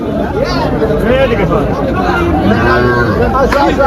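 Cattle low amid a busy crowd at the muddy Tepakhola cattle market in Faridpur, with steady chatter and voices throughout; the moos are mixed into the bustling market noise rather than standing alone.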